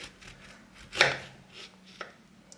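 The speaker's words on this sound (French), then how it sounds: "je vais couper comme ça mon citron" A knife cuts a lemon in half on a board: one distinct crisp chop lands near the middle, a smaller knock follows, and faint handling noise fills the quiet between them.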